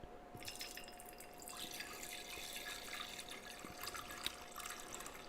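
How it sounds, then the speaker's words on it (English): Reverse-osmosis water, two liters, pours into a jug in a steady, close trickle and splash with scattered drips, quiet and continuous for several seconds with no talking. "And you pour in your 2 liters."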